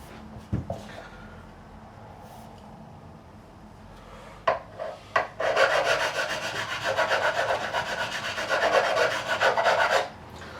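A metal file works the frets of a PRS SE Piezo guitar. A few isolated clicks and taps come first, then a long run of close, rhythmic rasping strokes.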